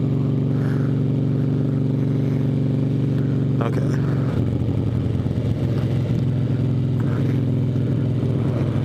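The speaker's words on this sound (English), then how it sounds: "Those exhaust pops though." Harley motorcycle ridden on the road, a steady low exhaust drone with a few crackling pops as the rider rolls along, close to the microphone, while someone says a word briefly.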